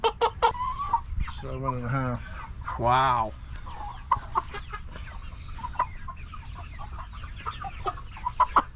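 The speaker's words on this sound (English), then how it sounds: "We got a 7-pound chicken in 8 weeks." Meat chickens being weighed on a farm cluck and squawk close by, with sharp calls early on and busy clucking throughout, while a person talks briefly over them.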